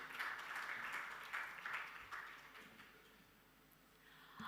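Audience applause at a maritime awards ceremony in Dubai, a moderate crowd of steady clapping that swells and fades in waves before thinning out near the end.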